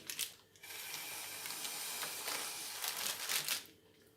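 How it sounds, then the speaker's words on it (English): Air is sucked out of a freezer bag of frozen roast potatoes through a straw, making a continuous close hiss with crinkling plastic that starts and stops abruptly. "just pop a straw in and vacuum seal it by sucking all air out of this bag"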